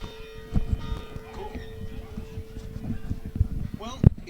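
A bell rings near the end of a high school football game between the Dunkirk Marauders and Burgard Bulldogs in Dunkirk, New York, with a short ringing burst close to the end under steady crowd noise and commentator talk.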